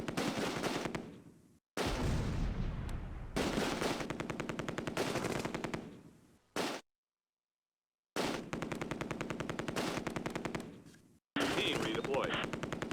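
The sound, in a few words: MG42 machine gun fire in video game Close Combat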